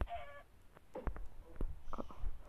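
A Minecraft chicken gives a few short clucks, fairly close, in scattered bursts over a low background rumble.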